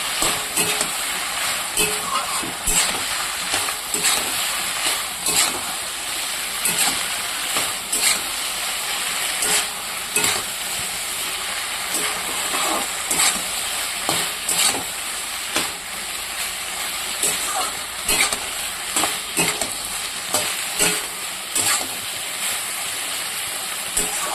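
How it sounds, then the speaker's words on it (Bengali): Steady hissing sizzle of fish frying in a hot pan, with occasional clinks and scraping from stirring, continuous and fairly close. "এবার সেটা মাছগুলো দিয়ে দিলাম নাড়াচাড়া করে দিলাম"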